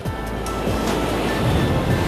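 Sea surf washing onto a sandy beach in Goa, a steady broadband wash that swells slightly toward the end, with no voices over it.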